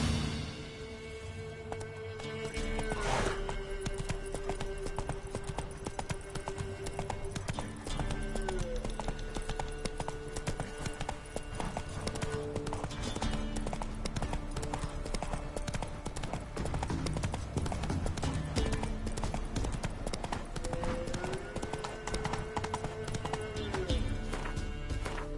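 Roach, a horse in The Witcher 3, gallops with steady clip-clop hoofbeats running continuously, close and loud over game music, with a brief whinny and a voice speaking over the galloping.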